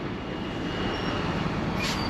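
Wine tram running through Stellenbosch in the South African wine country, a steady faint rumble of rolling wheels and motor with a brief hiss near the end, no talk.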